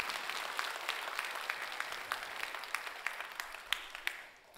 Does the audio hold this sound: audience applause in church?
yes